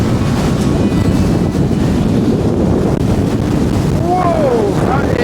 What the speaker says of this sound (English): that is some wind